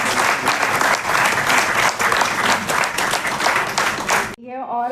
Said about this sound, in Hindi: ये बहुत ही गड़गड़ाहट वाली तालियां चाहिए मुझे शेट्टी जी के लिए